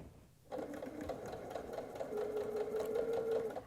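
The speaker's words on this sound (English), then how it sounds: "Give it one last feel before it goes under the sewing machine" A sewing machine starts up and stitches quilted fabric steadily, a fast rhythmic mechanical hum and clatter running continuously at close range.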